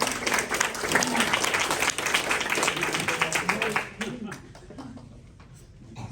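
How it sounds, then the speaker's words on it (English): Comedy show audience applause, dense sustained clapping for about four seconds before thinning into scattered claps and a quieter room. "actual round of applause for like memorizing all that."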